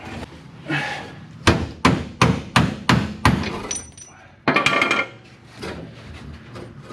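Hammering on a 1948 Chevy Fleetmaster: a run of about six sharp, loud metallic blows at a quick, slightly uneven pace, then a single heavier strike, with quieter shop noise between the hits.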